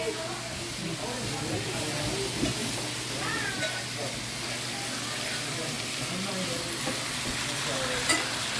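Vegetables and meat sizzle on a Korean BBQ grill at a birthday gathering, a steady moderate hiss beneath ongoing chatter from several people nearby.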